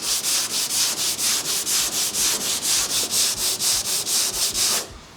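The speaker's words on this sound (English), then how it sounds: "Let's get some sandpaper out and start blocking." Sandpaper on a hand block rubbing back and forth across a car body panel during a Holden HZ Premier restoration, steady rhythmic strokes about three per second, close and loud, stopping near the end.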